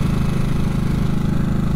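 A 2022 Harley-Davidson Nightster motorcycle engine rumbles loud and close during a test ride, giving a steady, throbbing low drone.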